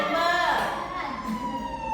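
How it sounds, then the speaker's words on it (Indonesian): An ambulance siren wails in sweeping rising and falling tones, steady and fairly close, with voices talking over it in a classroom. "Ini merupakan suara ambulan."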